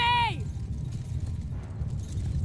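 Horses gallop in steady clip-clop rhythm across a Mount & Blade 2: Bannerlord battle, hooves pounding continuously and fairly close, with a brief tonal call at the start.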